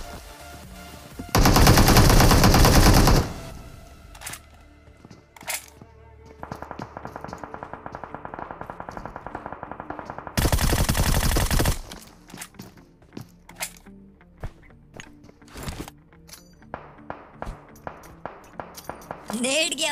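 Gunfire in the PUBG Mobile battle-royale game: two sustained, loud bursts of automatic fire, separated by quieter stretches of scattered shots, footsteps and small taps.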